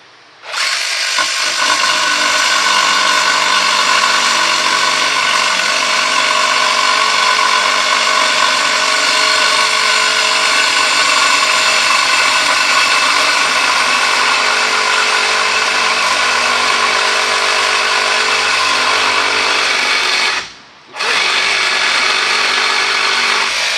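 A power tool cuts steady and loud through metal for a camper build, running continuously at close range with one brief stop near the end before starting again.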